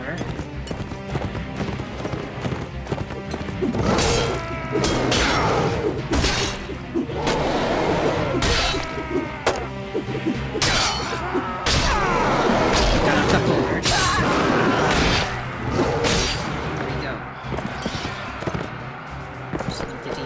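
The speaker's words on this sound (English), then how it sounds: "They are attacking the door." Infantry in a medieval video game battle assault a castle door, a dense din of clattering blows, thuds and crowd-like clamor that stays loud and continuous throughout, with a voice talking over it.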